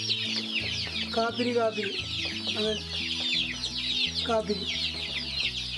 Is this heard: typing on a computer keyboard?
no